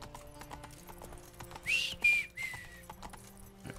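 Horse hooves clip-clop in a steady rhythmic gait in The Witcher 3 video game, with a few sharp whistling tones over the top and quiet game sounds in the background.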